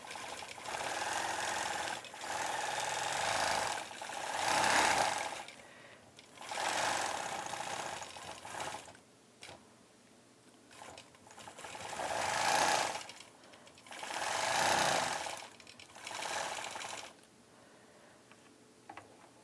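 An embroidery sewing machine stitches a quilt design around a bunny, running in loud bursts of rapid mechanical chatter a couple of seconds long, separated by brief pauses.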